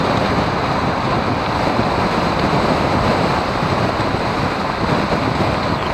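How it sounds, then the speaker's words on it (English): Strong wind roars across a tall bridge while riding a Triumph Bonneville T100 motorcycle: a loud, steady, buffeting rush that fills the whole span without letting up, with no voices over it. "It's quite a tall bridge, so you really do feel the wind as you get to the top of that one."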